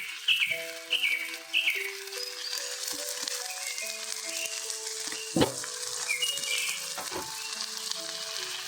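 Spices and turmeric frying in a pan, a low continuous sizzle with occasional stirring clatter, while birds chirp in the background with distinct tonal calls over the cooking noise.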